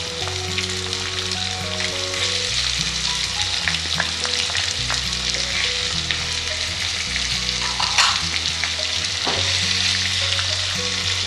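Onion, curry leaves and green chillies frying in oil for cabbage palya, a loud, close, crackling sizzle with occasional stirring clinks, steady throughout and without voices.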